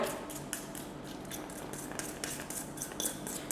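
Metal clatter as an upside-down tart mould is set onto a perforated aluminium tray, with soft repeated clinks and scrapes close by and no talking.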